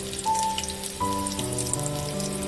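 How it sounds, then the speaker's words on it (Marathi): Onion paste hits hot oil for a spicy misal and sizzles steadily, a close, crackling hiss with faint tonal hum from the kitchen in the background, no voices. "तेल गरम झालेलं आहे त्यानंतर कांद्याचे वाटण टाकणार आहोत"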